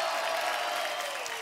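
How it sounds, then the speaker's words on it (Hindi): A TV comedy show studio audience applauds in a dense, steady burst of clapping that fills the brief moment, loud and close. "एक बार जोरदार तालियां बनती है"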